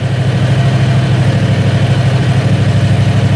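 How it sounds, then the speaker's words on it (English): A Predator 670cc engine fitted with a diaphragm fuel pump idles loud and close, a steady low, rhythmic chugging throb with even pulses and no voices. "I may need to turn the idle up a little bit."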